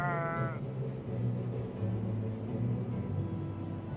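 A ewe with chalky fleece bleats once in the video game Argonus, a short harmonic cry at the start over a low, steady rumbling game ambience.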